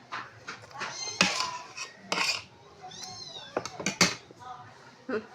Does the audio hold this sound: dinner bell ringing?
no